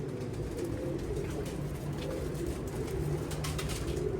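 Soft, low pigeon cooing repeats steadily over a constant hiss of outdoor noise, with faint higher chirps scattered throughout.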